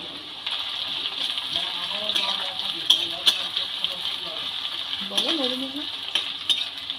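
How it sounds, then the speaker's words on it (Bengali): Garlic cloves and a chopped onion fry in hot oil, a steady close sizzle with occasional stirring clinks and scrapes, while someone talks intermittently over it. "রসুন আর পেঁয়াজটাকে ভালো করে ভেজে নেব।"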